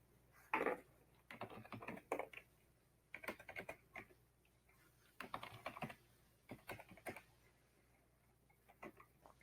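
A computer keyboard is typed on in short bursts while a password is entered, crisp close key clicks in irregular clusters separated by brief pauses, quiet room, no talking.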